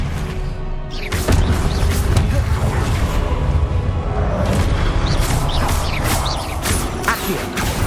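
Expelliarmus disarming spell in Hogwarts Legacy, a loud crackling magical blast amid continuous booming combat effects and repeated impacts, with sharp crashes scattered throughout.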